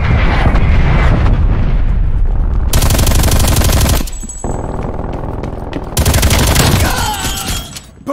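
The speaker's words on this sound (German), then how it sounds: "An alle! Artilleriebeschuss!" Artillery barrage in the Black Ops Cold War video game: loud, sustained bursts of rapid gunfire and explosions, pausing briefly before a second heavy salvo crashes in, close and dense throughout.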